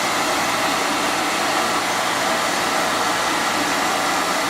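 Heat gun running on high heat while warming car trim during an LED glow light kit installation on a 2007 Infiniti G35x, a steady loud airy blowing roar that holds unbroken throughout with no voices.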